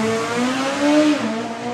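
A supercharged 4-cylinder drag racing car roars close and loud in a short burst, its engine tone climbing steadily at full throttle down the strip.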